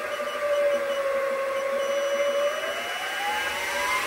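Motor of a Sieg SX2.7 milling machine runs steadily close up, a smooth whine whose pitch sits level and then begins rising slightly near the end, with no voices.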